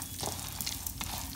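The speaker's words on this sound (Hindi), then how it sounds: "इसे हम इसका मॉइस्चर ख़त्म होने तक दोनों चीज़ों को भूनेंगे।" Peanuts and roasted chickpeas dry-roast in a pan, giving a soft, steady hissing crackle with faint scraping of stirring, close and quiet.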